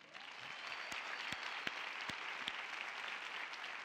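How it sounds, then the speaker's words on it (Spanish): Crowd applause, a continuous patter of many hands clapping at moderate distance, with a few sharper individual claps standing out. "muchas gracias a ellos, a Yasmaja, un aplauso para ellos"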